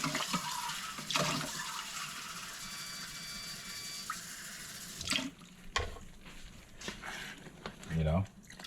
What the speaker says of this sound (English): you can add maybe a half a cup of hot water